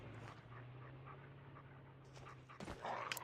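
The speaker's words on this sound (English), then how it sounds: "There goes dogs." Dogs in the video game Bigfoot panting rhythmically and whimpering over a low steady hum, ending in a brief louder burst of game noise.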